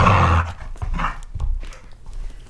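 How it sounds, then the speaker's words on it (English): A dog pants in quick, breathy bursts and lets out low growls close by, an uneven run of huffs and rumbles with no talking. "The dog is very interactive today."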